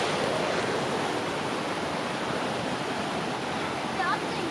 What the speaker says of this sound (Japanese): そのすぐ横にこんな川が流れてます。